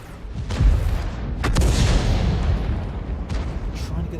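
A Crusader 5.5-in. self-propelled artillery gun fires in a video game with two heavy booms, the second followed by a long rolling rumble, and someone talks over them.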